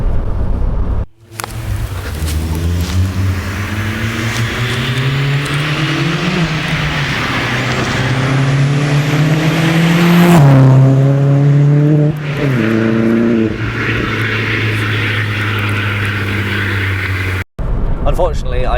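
Volkswagen Polo GTI with a decat exhaust revs hard through the gears, its engine note climbing loudly with a clear shift midway, then settling into a steady drone close by.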